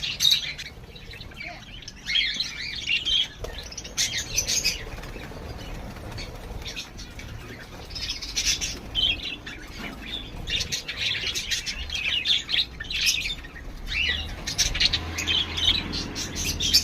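Cockatiels, including an albino female, chirp and squawk repeatedly in shrill bursts, close and fairly loud, with pauses between calls over a low background hum.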